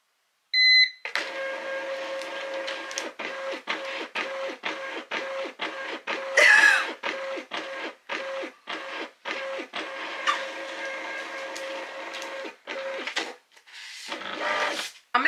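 A small thermal label printer beeps twice during calibration, then feeds with a rapid series of mechanical whirring pulses and clicks, close and fairly loud.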